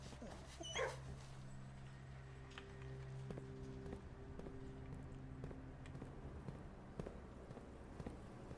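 A dog in the video game Blue Prince gives a few quick yips and barks, fairly faint over a low, steady game backdrop.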